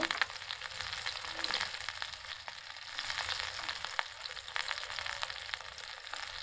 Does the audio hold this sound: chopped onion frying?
yes